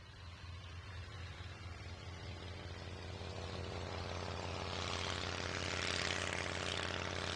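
A restored vintage Southern Martlet propeller plane, an early Miles design, drones overhead at an airshow. The engine hum builds slowly and steadily louder as it approaches, with a broad rushing tone and no talk.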